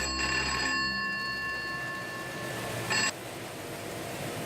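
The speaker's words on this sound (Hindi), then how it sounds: "हेलो, हाँ जी, अभी बुलाता हूँ। कल्पना, कल्पना, तेरा फोन" An old landline telephone rings indoors in a Hindi-speaking household, one shrill electronic ring burst loud at the start, then a second short burst about three seconds later over a quiet room.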